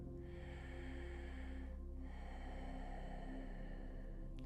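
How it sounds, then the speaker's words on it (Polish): Slow, steady ujjayi yoga breathing through a gently constricted throat, with a soft hissing, throaty rasp, a long drawn exhale followed by another, close and continuous. "To jest oddech, gdzie chcemy delikatnie zacisnąć krtań, taki oddech z dźwiękiem."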